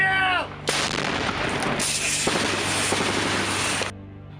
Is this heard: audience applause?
no